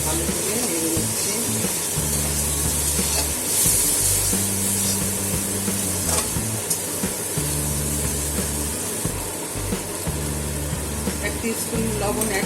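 Prawns stirred with soy sauce in a hot pan give a loud, continuous hiss and sizzle over a steady low hum, with faint scraping throughout.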